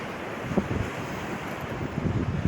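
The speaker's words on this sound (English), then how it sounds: "Beautiful beach though." Wind buffets the microphone on an open beach at Happisburgh as waves wash in the background, a steady broadband roar with no one speaking.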